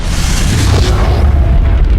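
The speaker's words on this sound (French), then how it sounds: "C'est une détonation assourdissante, suivie d'un silence momentané." A loud, deafening bomb explosion at the Boston attack, a sustained roaring boom that fills the whole clip without pause.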